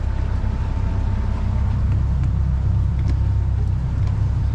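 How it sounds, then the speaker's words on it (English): A 2019 Vrestliner boat's motor running during a water test, a loud, steady low rumble close by with a continuous drone and no break over a few seconds. "And you can hear the motor."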